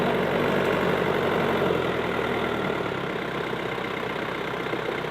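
A four-wheel drive tractor engine idles nearby in a steady, even mechanical drone that holds constant throughout, loud and alone with no speech.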